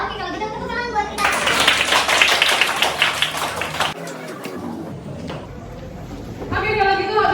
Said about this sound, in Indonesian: kalau gitu tepuk tangan buat kita